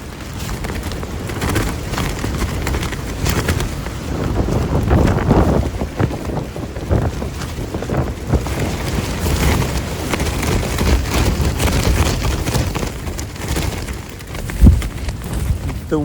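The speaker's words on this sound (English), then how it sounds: "The wind has me just pinned to the ground." Strong night wind batters a tent on Black Fork Mountain, Oklahoma, a continuous loud rushing roar with surging gusts, fabric flapping and microphone buffeting, and a sharp thump near the end.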